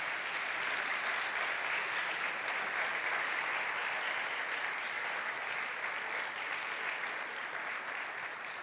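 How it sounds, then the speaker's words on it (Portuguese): Applause from a church audience during a missionary conference, dense and even, filling the room at a steady level from start to finish. "Você pode aplaudir o Senhor Jesus?"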